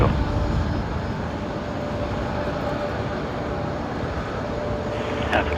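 A Western Global Boeing 747 taking off from runway 19 right at Brisbane Airport, its engines a loud, steady, broadband roar that fills the whole stretch without letting up, with no speech over it.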